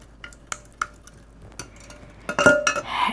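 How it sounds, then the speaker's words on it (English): A spoon stirs vanilla into wet cake batter ingredients in a bowl, first with sparse light clinks and taps, then a louder burst of scraping and clattering against the dish toward the end. "I'm going to go ahead and add my vanilla. Like I said, most of the wet stuff, and give it a little stir"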